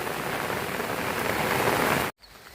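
Heavy continuous rain pours over rice fields in a dense, even hiss that cuts off abruptly near the end, leaving quieter background.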